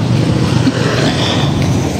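A motorized tricycle loaded with heavy cargo pulls away on a road, its engine a continuous loud, rough rumble throughout with no voices.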